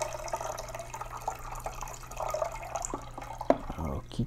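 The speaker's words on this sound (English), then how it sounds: "Let's pour this out one last time." Film-developing liquid is poured out of a container, making splashing, trickling and dripping sounds over a low steady hum, and it ends with a few sharper drips and clunks.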